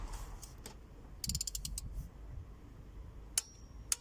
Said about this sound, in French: On va passer donc avec la plus grosse clé dynamométrique.